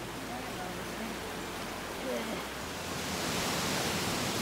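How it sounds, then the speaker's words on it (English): Long Creek Falls on the Appalachian Trail near Springer Mountain, a steady broadband rush of falling water at moderate distance, continuous and even throughout, growing slightly brighter toward the end. "What are these waterfalls called?"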